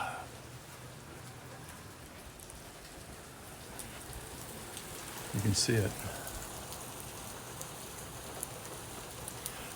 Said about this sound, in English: can you hear the rain outside?